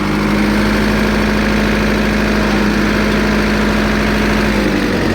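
A tractor engine idles close by during repair work, a loud, steady low rumble with a constant drone and no pauses.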